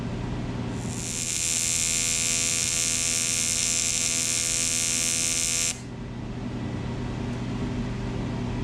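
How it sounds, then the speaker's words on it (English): A welder working on a jet ski exhaust at about 90 amps runs as a steady, loud buzzing hiss for roughly five seconds and then cuts off abruptly, leaving a low background hum. "The weld is going good, except that it keeps shutting off on me."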